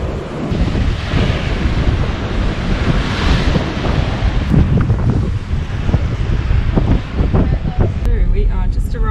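Sea water washing in over coastal rocks with the tide at South West Rocks, New South Wales, a loud rushing surge with heavy wind buffeting the microphone and brief voices near the end.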